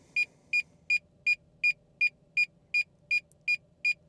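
A DJI drone, unable to pair, gives a series of about eleven short, high electronic beeps repeating at an even pace, with a low hum in the background.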